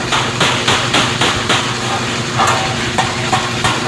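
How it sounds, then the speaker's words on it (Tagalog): Steady metallic hammering flattens sheet metal for a small toolbox, about two blows per second, close and loud over a constant hissing, rumbling machine background. "Pinupukpok niya para pumantay."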